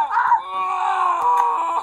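Cartoonish characters in the Happy Wheels video game let out a sustained, strained yell or groan, loud and close, with slight shifts in pitch and no clear pauses.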